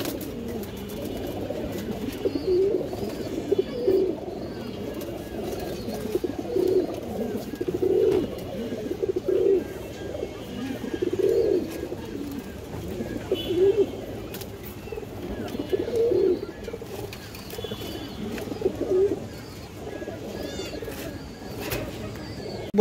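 A pair of big-size Bagha pigeons coo repeatedly in a low, throaty rhythm, close by, with soft overlapping calls and faint background murmur throughout.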